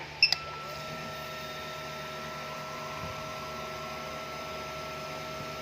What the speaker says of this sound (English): for the injecting flow test, this is maximum injector flow, so we're gonna check how it performs on full throttle